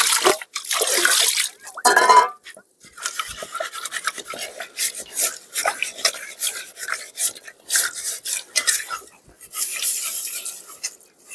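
Pots being scrubbed and rinsed with water outdoors at a campsite beneath a suspension bridge, with irregular bursts of rasping, clinking metal and splashing close by, broken by short pauses.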